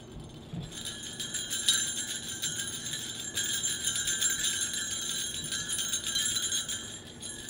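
Christmas tree ornaments jingle and tinkle in a soft, continuous shimmer of small metallic rattles that swells and fades over several seconds, fairly quiet and with no talking.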